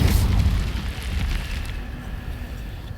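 An Incendio fire spell is cast in the video game Hogwarts Legacy: a loud fiery burst erupts at the start, then fades into a low, rumbling roar that trails off over about three seconds.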